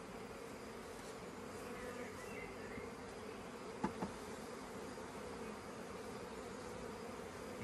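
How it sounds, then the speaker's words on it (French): A primary honeybee swarm containing the old queen, a dense, steady buzz of many bees filling the air evenly throughout, with a couple of faint knocks midway. "Donc c'est un essaim primaire vu la taille."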